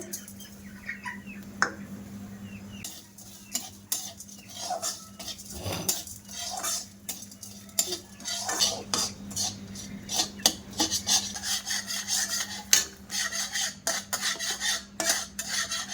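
A spoon scrapes and clinks against a hot wok while four spoons of sugar are stirred into caramel, with irregular close metallic taps and scrapes over a faint low hum and no talk.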